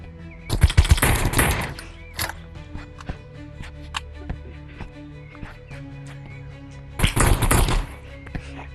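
Bursts of AK rifle fire in the video game Animal Rivals, two loud rapid volleys near the start and end with scattered thuds and game sounds between them.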